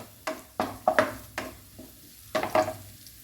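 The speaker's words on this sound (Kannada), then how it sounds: "ಇದನ್ನು ಸ್ವಲ್ಪ ಫ್ರೈ ಮಾಡುವ." Red chilli flakes and garlic frying in oil over low heat, stirred with a spoon, giving repeated scraping strokes over a soft close sizzle.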